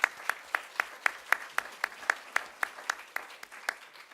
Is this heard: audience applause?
yes